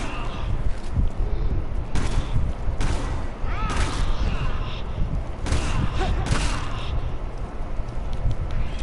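Rapid bursts of gunfire from the Resident Evil 6 video game, Chris's campaign in New Game Plus, crackle in loud repeated volleys over several seconds with a steady roar of game noise beneath.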